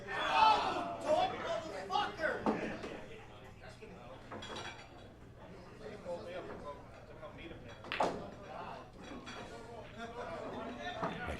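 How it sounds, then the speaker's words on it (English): Crowd in a room chanting and yelling at TV monitors showing a tennis match, a loud burst of shouts near the start and another around eight seconds, with busy chatter and clinking in between. "As you hear the crowd in the background chanting, yelling at the TV monitors in this tennis match that's going on in the room."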